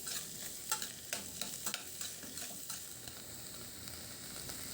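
Cauliflower stir-fried on high flame in a pan, a soft steady sizzle broken by several sharp scraping stirs from a spatula, close and alone without talk.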